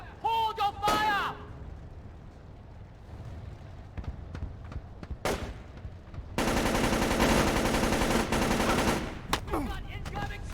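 Gunfire erupts in a Splinter Cell: Chaos Theory firefight: a few sharp shots early, scattered cracks, then a sustained rapid burst of automatic fire lasting several seconds, with game voices calling out around it.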